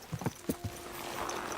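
A horse in a medieval Bohemian role-playing game walks with a handful of uneven clip-clop hoof steps up close, fading into a steady outdoor ambience.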